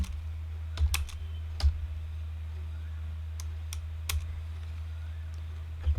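Values being keyed into a computer keyboard while entering numbers for a 2-D array program: a handful of sparse, separate keystroke clicks over a steady low electrical hum, fairly close.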